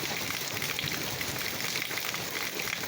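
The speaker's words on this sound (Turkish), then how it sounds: "Akçadağ Ovası'na dolu yağışı başladı." Walnut-sized hail pelting down across the Akçadağ plain in Malatya, a steady dense patter of hard impacts over open farmland with apricot orchards, continuous and loud with no talk.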